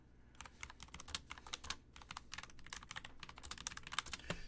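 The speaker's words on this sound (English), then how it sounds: "if my typing is annoying, I apologize." Fast, uneven clatter of keys on a computer keyboard, close and fairly quiet, with bursts of rapid taps and brief pauses and no talking.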